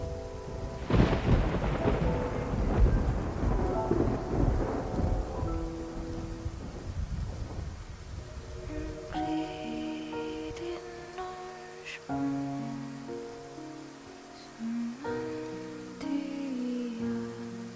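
A thunderstorm with heavy rain at sea in a video game: deep rolling thunder and a steady downpour dominate at first, then fade under sustained musical tones that carry on to the end.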